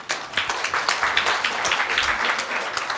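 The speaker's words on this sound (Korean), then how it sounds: "노지훈 씨를 박수로 맞이하겠습니다" Audience applause welcoming a guest lecturer at a Sogang University public talk, a modest scattering of distinct claps that stays fairly even and moderately soft.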